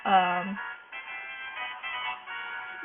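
A phone ringtone chimes as an incoming call arrives, a bright repeating electronic melody that starts with a short louder burst and then keeps ringing steadily and close, with no talking over it.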